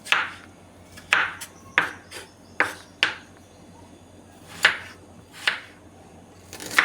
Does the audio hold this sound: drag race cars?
no